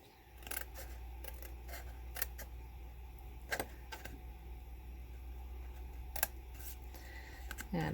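Scissors snip wedges into a paper treat box, a handful of crisp, close cuts at irregular intervals over a quiet low hum, faint and intimate.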